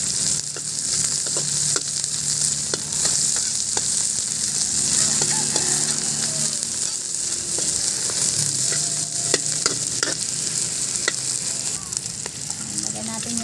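Chopped ginger sautéing in a pan for a corn and fish soup, a steady broadband sizzle and crackle filling the whole span with small pops and faint clinks, continuous and fairly loud with no talk over it.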